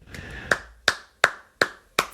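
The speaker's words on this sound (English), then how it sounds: "Clap it up." Five sharp hand claps ring out at a steady, deliberate rhythm, each crisp and close, separated by short quiet gaps.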